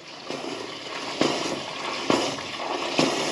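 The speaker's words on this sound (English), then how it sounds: "The water is definitely up against something." Water rushes through a sewer pipe on a flooding ranch, a steady turbulent flow with loud surges and splashes roughly every second as it pushes against a blockage.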